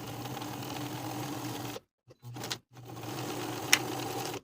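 A sewing machine stitches a dress armhole facing seam at a 1/2 inch seam allowance in steady running bursts, close and alone, with a short stop in the middle before the motor starts again.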